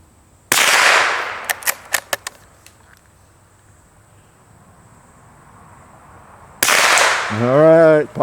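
Target shooting at a 2-liter bottle: a loud, sharp report echoes across open ground, followed by several quick, smaller cracks, then quiet until another blast near the end, with a voice speaking afterward.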